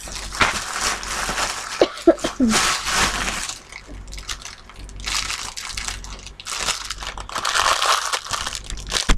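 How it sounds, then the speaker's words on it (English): Crinkling plastic rustles in bursts, close and fairly loud, with a voice speaking briefly in between. "Oh, again, crinkly bag."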